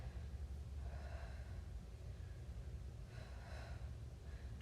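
Heavy breathing during an at-home strength training workout comes as a few faint, airy gasps and exhales over a steady low room hum.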